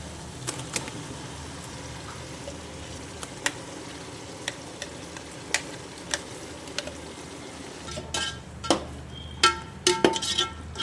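Ground chili paste hitting frying onions in a pan for mutton pulao, raising a steady sizzle with scattered clinks and scrapes of a spoon that grow busier and louder toward the end.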